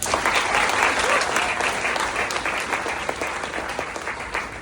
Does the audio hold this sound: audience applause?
yes